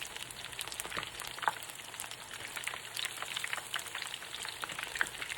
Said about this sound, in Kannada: ಡೀಪ್ ಫ್ರೈ ಮಾಡೋದಕ್ಕೆ ಎಣ್ಣೆ ಚೆನ್ನಾಗಿ ಕಾದಿದೆ. ಫ್ಲೇಮ್ನ ಮೀಡಿಯಮಲ್ಲಿಟ್ಟು ಒಂದೊಂದೇ ಪೀಸಸ್ನ ಹಾಕಿ